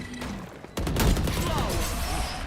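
Gunfire in a shooting video game opens after a quiet start with a loud, sustained burst of rapid automatic shots, and a faint voice can be heard beneath the firing.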